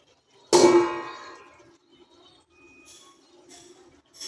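A metal lid is set down on a cooking pot of chicken cooking over a medium flame, giving a single sharp clang with a ringing tone that decays over about a second, followed by faint clinks.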